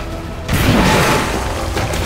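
A cannon blast in the XCOM 2 video game, a sudden loud boom that hits after half a second of quiet and then rolls on as a sustained rumbling roar for the rest of the moment.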